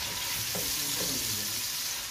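Mixed vegetables (potato, peas, carrot, cauliflower) with tomato and green chilli frying in oil in a pan, giving a steady loud sizzle with soft scraping stir strokes, no talk.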